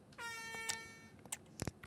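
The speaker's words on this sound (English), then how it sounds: "We have an air horn." A loud blaring air horn goal sound in a football video game sounds once in a sustained harmonic blast, followed by a few short sharp bursts and clatters.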